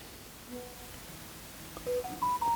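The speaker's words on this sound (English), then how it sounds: "That's my mobile phone going off." A mobile phone goes off on a repair bench where a disco light is being fixed: a short run of bright electronic ringtone beeps rises in pitch near the end, over low background hum.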